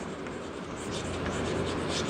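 Chalk or marker scratches and taps across a classroom board during a science lesson, a faint continuous scraping under a room hum, with a teacher's voice nearby.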